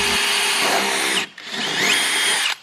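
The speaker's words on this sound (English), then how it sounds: "I really didn't want to drill into these fiberglass doors" A power drill whirs loudly into a fiberglass car door in two bursts, the first about a second long, a brief pause, then a longer second run that cuts off abruptly.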